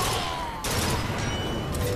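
Continuous rapid gunfire in a Bioshock Infinite combat arena, loud and sustained with no pauses across the stretch.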